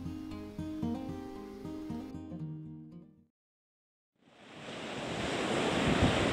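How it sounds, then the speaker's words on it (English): Wind and surf on New Aberdour Beach in Scotland: after music and a brief silence, a loud, steady wash of breaking waves and gusting wind rises and holds to the end, with no talking. "It's windy."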